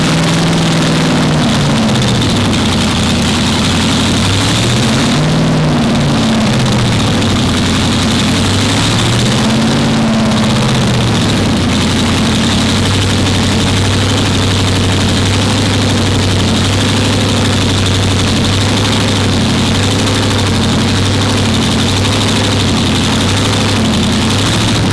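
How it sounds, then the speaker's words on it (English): A supercharged V8 in a Nissan Skyline R34 idles loudly and close, a deep lumpy rumble that surges and dips in pitch a few times before settling into a steady heavy drone. "You hear that supercharger hunt coming at you, it is the most unbelievable sound."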